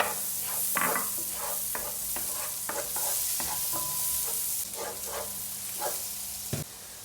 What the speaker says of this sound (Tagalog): Ang una nating igisa ang ating bawang.